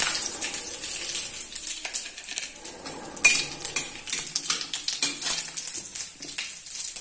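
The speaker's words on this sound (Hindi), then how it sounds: "यहाँ पे तेल गरम हो गया है तो अब उसमें हम जीरा और ये सूखी मिर्च डाल देते हैं" Cumin and dry chillies go into hot oil in a kitchen pan, giving a soft crackle with light clinks of a utensil against the pan, close and fairly quiet with no speech.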